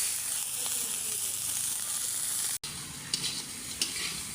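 Ingredients for a village-style bharta with dheki shak, garlic greens and snakehead fish skin frying and being stirred in a pan, a steady close sizzle with soft scraping and a brief break partway through.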